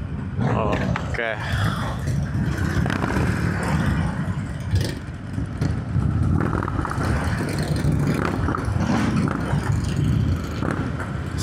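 Harley-Davidson Iron 883 motorcycle exhaust rumbles and burbles steadily nearby, with engine noise swelling at times, as people talk over the low drone.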